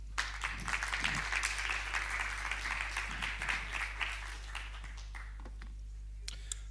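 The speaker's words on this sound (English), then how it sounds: "please, big round of applause here for Leo" An audience at a staking conference applauds a speaker, a steady wash of many hands clapping that fades toward the end, with a low mains hum underneath and a few isolated claps trailing off.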